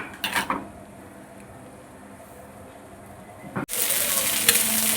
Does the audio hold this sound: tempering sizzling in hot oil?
yes